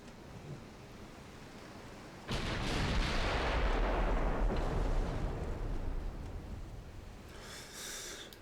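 Naval ship guns fire in a video game set in a US dreadnought campaign: a sudden heavy boom lands after a quiet stretch, then a long rolling rumble decays slowly, with a faint hiss near the end.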